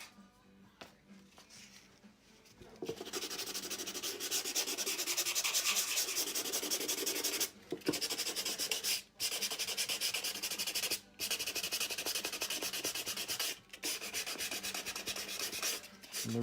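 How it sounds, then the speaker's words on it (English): Steady back-and-forth scraping of sandpaper on wood, close and continuous, broken by a few brief pauses. "I'm going to do a little sanding."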